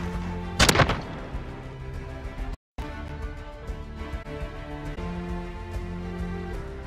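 Video game gunfire: a sharp burst of shots early on, then a brief dropout and a low steady soundscape with faint scattered pops.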